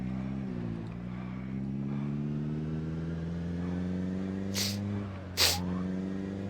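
A slightly dirty car engine idles and drives steadily in the Project Zomboid survival video game, a continuous low rumble with a shifting pitch and two brief sharp noises near the end.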